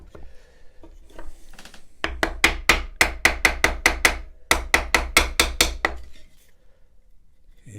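A glued wooden dowel is driven into a hole in pallet wood on a Workmate bench, in two quick runs of sharp, evenly spaced hammer blows, about sixteen strikes in all, close and crisp with short pauses.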